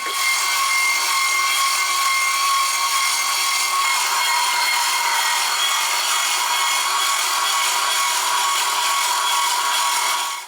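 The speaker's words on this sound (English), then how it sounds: "we're gonna go and make our meat by turning the system on and adding the meat in." A Naitesen 3000W electric meat grinder fitted with the fine plate runs while chicken is fed in. Its steady, loud, high-pitched motor whine holds continuously without pause, then cuts off abruptly at the very end.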